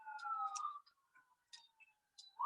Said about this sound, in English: I apologize, there's sirens